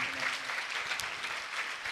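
A church congregation claps steadily for the full two seconds, a dense, even wash of applause with a faint voice in the background.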